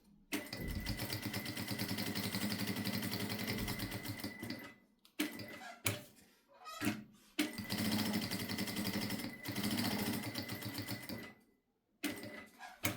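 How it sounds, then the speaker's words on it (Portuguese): A sewing machine stitches fabric for a bookmark in fast, close, rattling bursts, with a long run, several short stops and starts, and a brief gap before resuming. "E a gente vai fazer uma costura, deixando esse espaço para desvirar."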